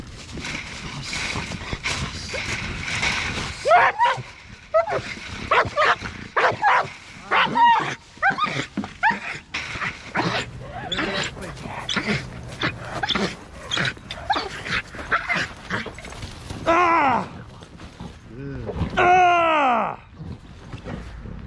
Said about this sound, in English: That dog was trying to get him through that fence.